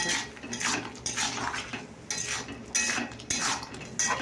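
A spatula scrapes and stirs spiced masala with cumin and chilli powder frying in a pan, in repeated rhythmic metallic strokes over a soft sizzle, close and fairly quiet, with no talking.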